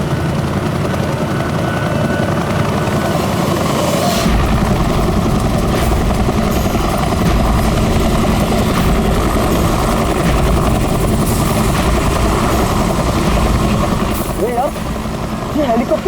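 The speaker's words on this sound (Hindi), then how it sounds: "ये हेलीकॉप्टर इतना नीचे क्यों उड़ रहा?" A loud helicopter flying low overhead thunders close by, a continuous rotor and engine drone throughout, with people talking underneath it.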